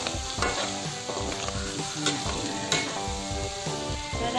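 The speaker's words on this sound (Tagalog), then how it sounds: "Nagigisa." Rabbit innards sautéing in a pan for a birthday meal, a dense steady sizzle with stirring scrapes and clinks throughout, loud and close with no talk.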